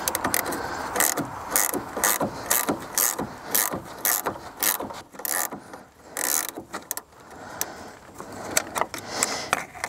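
A ratchet tightens nuts on a service truck, rapid clicking bursts repeating in quick close strokes with brief pauses between, loud and near.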